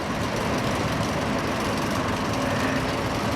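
A 1954 Nuffield tractor with an early BMC engine runs in the display ring at the Great Dorset Steam Fair, giving off a steady, low engine drone that stays even throughout with no talk.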